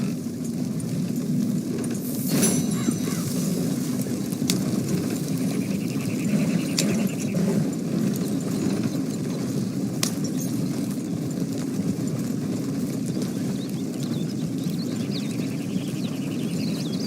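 Horse hooves clip-clopping at a steady, continuous pace in Red Dead Redemption 2, with a dense rhythmic trot under a low rumble and a few sharper clicks, with no talk.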